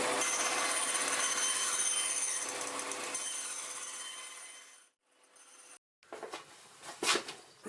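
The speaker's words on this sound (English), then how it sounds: "I'm going to cut them to 15mm wide, and then do each blade 100mm long." A power tool cuts 3mm plywood into thin windmill blades, a steady high buzzing that fades out, followed after a pause by a few scattered knocks and rattles of wood.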